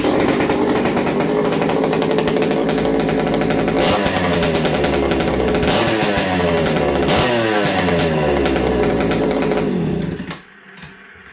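Chainsaw running loud and close for about ten seconds, engine revving and bogging as it cuts into wood in a saw repair shop, then cutting off abruptly near the end.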